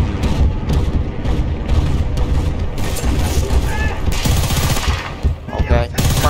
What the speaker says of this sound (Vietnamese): Giờ tao bắn trước mấy viên rồi đó nha bộ.